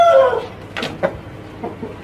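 A Bangkok rooster of the solah ngalung type clucks nearby, a loud opening call followed by a few short, sharp clucks spaced out over two seconds.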